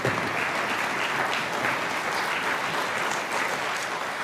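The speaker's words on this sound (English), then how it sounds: "Let's give a big round of applause." An audience claps at an orchestra spring concert, a steady wash of many hands heard from across the hall, even and sustained for several seconds with no speech.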